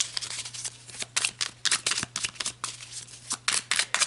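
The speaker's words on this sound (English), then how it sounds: "I do feel these need a good shuffle" A deck of tarot cards is shuffled close up, giving quick bursts of crisp riffling and flapping in an irregular rhythm over a faint steady hum, with no talking.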